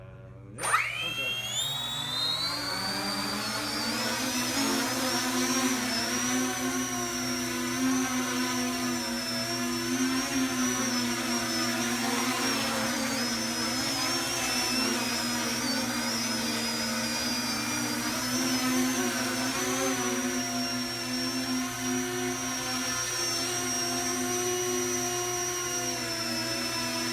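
E-flite Convergence RC aircraft motors whining steadily in multirotor mode, a loud continuous electric drone with rising and wavering pitch that holds for the whole stretch after a quick spin-up.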